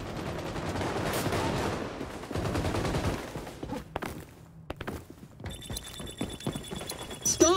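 Rapid gunfire from an XDefiant online match rattles in repeated bursts with thuds and footsteps, fairly loud, then gives way to sparser shots and a high electronic tone near the end.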